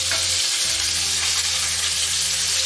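Salmon fillet frying in oil in a pan, a steady loud sizzle throughout with slight crackle as the fish is turned, no voices.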